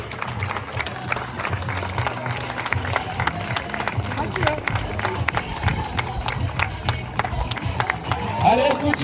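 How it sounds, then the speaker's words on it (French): Outdoor festival crowd in Saint-Gervais-sur-Mare clapping and cheering for a Camargue bull-herding troupe, loud busy applause with shouts and voices mixed in throughout. "Tenez un applaudissement, s'il vous plaît, pour la manade Bio."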